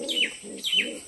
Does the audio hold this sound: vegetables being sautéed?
no